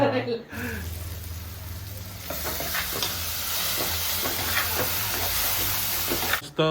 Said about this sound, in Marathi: पापलेट आणि सुरमय फ्राय करत ठेवली